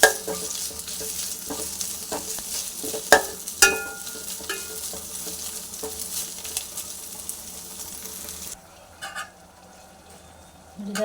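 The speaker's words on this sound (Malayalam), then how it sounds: "അതുകൂടെ തട്ടിയിട്ട് നല്ലപോലെ ഒന്ന് ഇളക്കി കൊടുക്കാം." Paste being stirred in a frying pan for a rice dish, a steady close sizzle with spatula scrapes and a few clanks, the frying noise dropping away sharply near the end; no speech.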